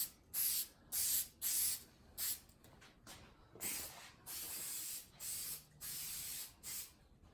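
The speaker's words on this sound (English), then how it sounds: "give it one little spray around the edge here" Short hissing bursts from a spray can repeat in a steady rhythm, each lasting under a second, close and fairly quiet.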